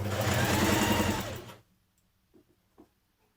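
A sewing machine stitches the neck and yoke of a New Look 6871 blouse, running in a loud, fast, steady whir up close before stopping, followed by a few soft handling knocks.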